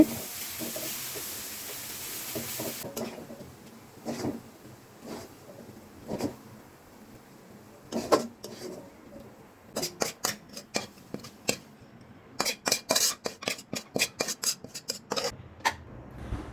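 Fried vegetable bhaji is scraped and poured from a pan into a bowl, giving a run of close scraping and clattering knocks that grow busier toward the end over a faint background hiss.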